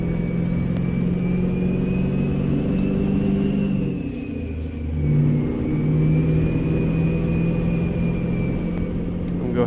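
A Mack Cruiseliner truck with a 12-speed Maxitorque transmission in American Truck Simulator, a deep diesel engine droning and revving, with pitch rising and dipping through gear changes, loud and steady.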